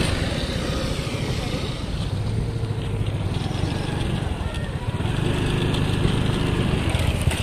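A scooter engine drones steadily while riding over a rough, broken road, with a continuous close motor hum that rises slightly toward the end. People talk over the sound.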